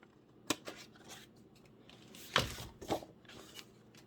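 Scissors snip through scored cardstock on a diagonal for a shadowbox accordion mini album, giving a few short, close crisp cuts with quiet rustling between them.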